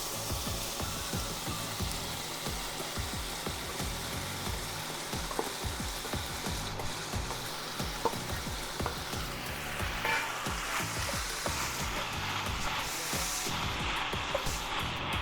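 Chopped onions and bell peppers fry in a pan for a Philly cheesesteak sandwich, giving a steady dense sizzle with scraping stirring clicks throughout and no talking.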